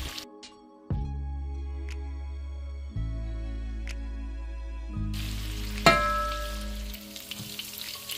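Cut links of smoked sausage sizzle steadily in a frying pan as they brown, a constant close crackle with occasional louder pops and no talking.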